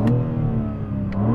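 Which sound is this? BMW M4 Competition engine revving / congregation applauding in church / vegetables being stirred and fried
BMW M4 Competition engine revving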